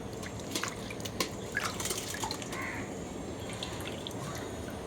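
Tapioca being washed in buckets of water to clear off mud, with steady dripping and light splashing up close while crows caw faintly in the distance outdoors.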